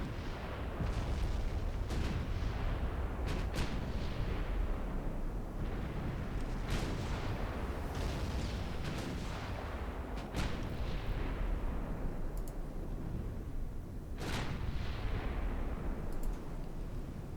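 Naval turret guns firing armor-piercing rounds in a dreadnought battleship battle, repeated sharp booms at irregular intervals over a constant low rumble, some blasts close and loud, others more distant.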